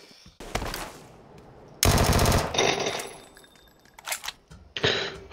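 Gunfire in the battle royale video game PUBG: loud bursts of rapid automatic fire mixed with sharp single shots, irregular and punchy, separated by quieter gaps.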